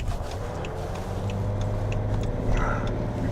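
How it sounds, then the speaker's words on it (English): A car engine drones steadily from inside the moving vehicle during a dark commute, a close, even low hum with faint ticking over it and no talk. "You probably can hear the engine there."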